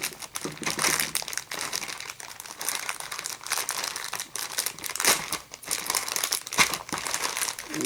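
Plastic packaging crinkles and tears as a 1/25-scale MPC model car kit is unwrapped, a busy close run of rustling and crumpling with sharp crackling bursts.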